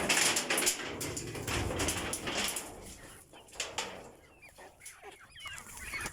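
Heritage chickens cluck and chatter on a free-range farm, several birds calling close by in uneven bursts over a busy background.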